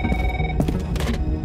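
A telephone rings as a sound effect in a Bengali radio drama, a close, bright electronic trill in short repeated bursts, heard alone.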